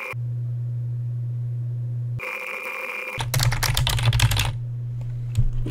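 Rapid keystrokes clatter on a computer keyboard during a typing test, a dense burst of close clicks lasting about a second and a half, set between steady electronic tones with a few stray clicks near the end.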